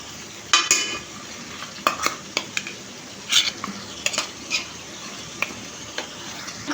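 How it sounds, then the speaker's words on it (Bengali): Onion and garlic paste frying in a pan, with a steady low sizzle under repeated sharp clicks and scrapes of a utensil stirring against the pan, close by. "পেঁয়াজ দিয়ে দিয়েছি, এখন এগুলোকে ভাজবো।"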